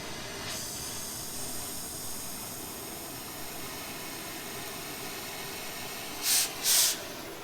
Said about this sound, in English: These cuts would definitely be a lot cleaner if I used an angle grinder or a plasma cutter, but I haven't used my torch in a while